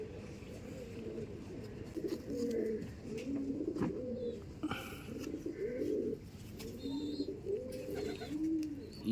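Pigeons on a rooftop coo in repeated soft, low, throaty phrases at a steady rhythm, fairly close but quiet, with a few faint higher chirps and background noise.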